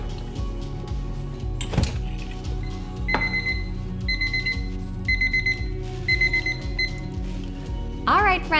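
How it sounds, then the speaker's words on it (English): A kitchen timer goes off while Vanilla Ritz cookies are being made, sounding repeated short high beeps in evenly spaced groups over a steady low room hum and some kitchen clatter. "My 10-minute timer just went off"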